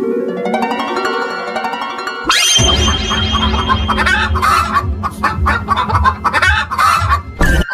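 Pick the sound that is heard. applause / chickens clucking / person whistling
chickens clucking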